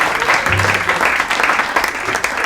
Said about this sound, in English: A round of applause for our announcer